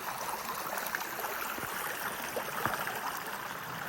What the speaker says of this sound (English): Pretty cool little babbling brook